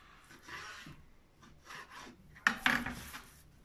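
A knife slicing through a boned roe deer steak, heard as a few soft rasping, scraping strokes with a sharper scrape and knock near the end, close and alone.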